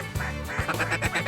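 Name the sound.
ducks quacking during mallard duck hunt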